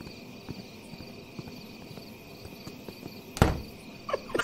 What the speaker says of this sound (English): There's a frog in the apartment!